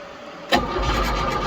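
A John Deere 70 skid steer engine cranks and catches abruptly, then settles into a steady, loud, close-up idle rumble with no talk.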